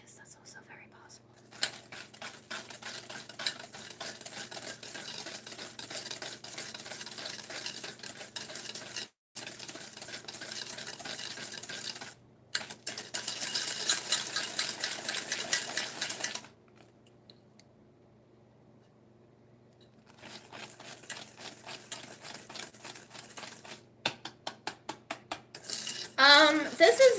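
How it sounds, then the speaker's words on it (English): A manual whisk works oatmeal raisin cookie dough in a bowl, close and crisp, with busy scraping and clinking strokes in long bursts that stop for short pauses. Whispered talk comes in at times. "I have no idea why I chose to do this with a manual whisk"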